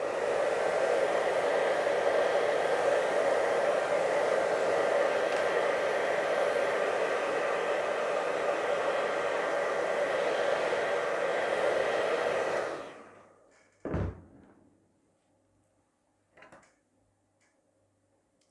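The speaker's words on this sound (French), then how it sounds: "Ou on peut sécher aussi avec le sèche-cheveux si on a envie d'aller plus vite" A hair dryer blows steadily and loudly on a watercolor beach painting for about thirteen seconds, then switches off, followed by a couple of brief clicks and knocks in near silence.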